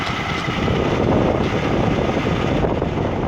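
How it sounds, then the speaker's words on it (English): Steady, loud wind rumbling and buffeting the microphone, a continuous broadband roar with no pauses. "It's a little windy out."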